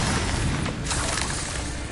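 An Incendio fire spell is cast in Hogwarts Legacy, giving a brief, dense roaring whoosh of flame that stays loud and steady for about two seconds.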